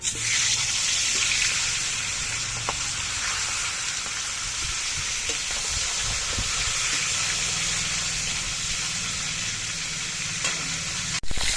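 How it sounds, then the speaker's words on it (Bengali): Fish heads frying in hot mustard oil in a wok make a loud, continuous crackling sizzle, with occasional stirring clinks and no talk over it. "এবার মাছের মাথাগুলো আমি ভেজে নিচ্ছি"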